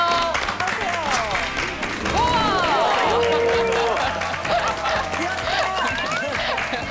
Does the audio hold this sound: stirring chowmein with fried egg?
no